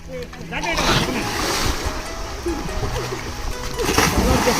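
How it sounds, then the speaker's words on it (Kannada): People diving and splashing into a swimming pool on a hot summer day, continuous churning water and splashes under loud overlapping voices and shouting. "ಒಬ್ಬೊಬ್ರು ಒಂದೊಂಥರ ಡೈಗಳು."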